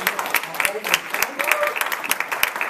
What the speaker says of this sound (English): Yes, and that's a strong clap because that was for you